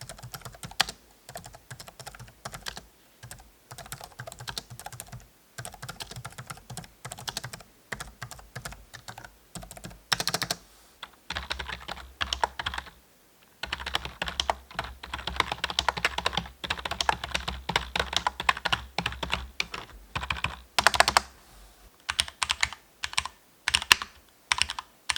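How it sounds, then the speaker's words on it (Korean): Typing the same sentence in turn on a pantograph keyboard, a low-profile membrane keyboard and a Cherry MX Red mechanical keyboard gives close, rapid key clicks in bursts separated by brief pauses. "제가 한번 펜타그래프, 그리고 로우 프로파일의 멤브레인 키보드, 그리고 체리 적축 키보드를 같은 문장으로 한번 타건을 해보도록 하겠습니다"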